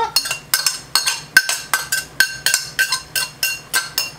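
A utensil clinking against a pan while Sloppy Joe filling is mixed, a regular rhythm of bright close metallic taps, about three per second.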